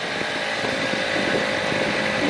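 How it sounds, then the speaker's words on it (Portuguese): A large fishing boat's outboard engine roars steadily on the open sea, a constant broadband drone mixed with wind noise and no voices. "Acelera pra ver o ronco do motor"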